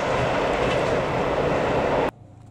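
A train hauled by a CC-06 locomotive rumbles past loudly with steady wheel noise, then cuts off abruptly near the end.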